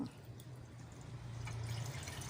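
A cup of fragrant coconut water poured into a cooking pot for Thai pumpkin bua loi, giving a steady, soft liquid trickle and splash that carries on throughout without any talking.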